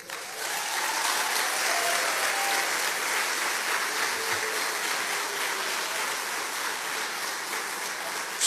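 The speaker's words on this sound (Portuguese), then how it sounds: "Podem aplaudir ao Senhor." A graduation ceremony crowd applauds steadily, a dense, even wash of many hands clapping that holds at moderate loudness throughout, with no talk over it.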